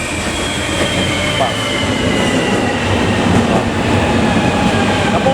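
A light rail train rumbles steadily close by as it arrives, with faint metallic squeal and rail noise throughout, and a brief voice heard once under the din.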